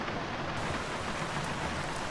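Torrential rain pours down in the Amazon in a steady, dense hiss that stays unbroken and fairly close, with no voices.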